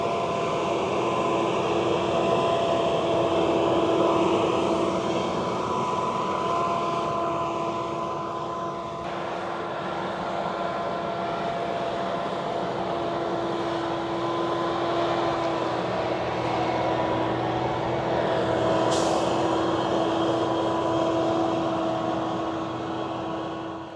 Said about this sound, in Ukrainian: Ось оприскувач їде.